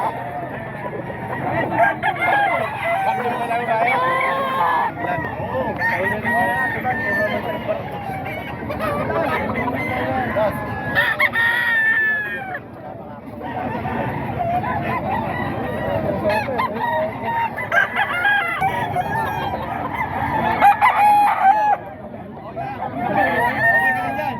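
Roosters crow repeatedly amid clucking fowl at a gamecock sale, with people talking and background chatter throughout.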